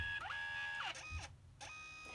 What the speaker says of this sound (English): It will go back and forth about 3 or 4 times.